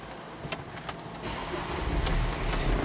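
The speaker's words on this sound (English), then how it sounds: "And I'm going to turn the engine on." A 2006 Audi A4 2.0T Quattro engine cranking and catching, a short starter whir followed by the engine firing and settling into a steady idle close by.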